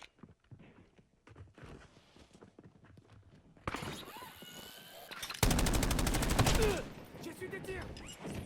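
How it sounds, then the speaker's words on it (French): Gunfire in the Warzone battle royale game: a sustained loud, dense rattle of automatic shots erupts midway after quieter game sounds and distant pops, then fades back into background noise. "J'ai reçu des tirs."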